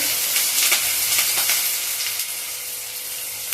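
Cinnamon, onions and curry leaves frying in a pan for mutton curry, a steady bright sizzle that holds throughout with soft crackling pops and no talk.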